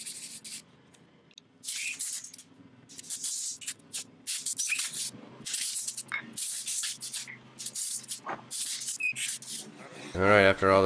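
Wooden beer tap handles being sanded by hand, a run of rough rubbing strokes that come in bursts with short pauses between, heard up close with no talk over them.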